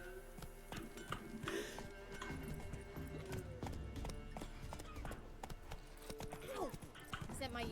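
A horse clip-clops along at pace in The Witcher 3: Wild Hunt, rapid rhythmic hoofbeats under game music, with a snort or whinny and someone speaking at points.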